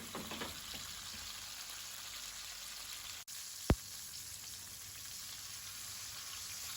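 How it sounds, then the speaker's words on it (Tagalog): Chicken pieces fry in a pan with a faint, even sizzle that continues throughout, broken by one brief sharp click midway and with no talk. "pwede na nating i-flip para iprito naman natin yung kabilang side"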